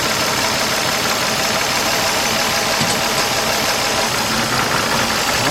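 A 2004 Nissan Maxima engine runs in drive with a cylinder 6 misfire, giving a loud, rough, uneven idle with a knocking, shaking pulse that stays constant across the whole stretch, with no talking.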